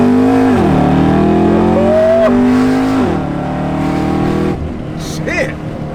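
A 600 HP supercharged Chevrolet Camaro ZL1 with headers revs hard under acceleration, a loud rising engine note with gear shifts, heard from inside the car before fading as a voice comes in.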